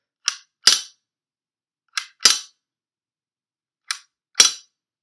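A P99 and an HK USP gas blowback airsoft pistol, dry-fired after an ice blockage, give three pairs of sharp cracking shots, loud and close, with gaps of over a second between pairs.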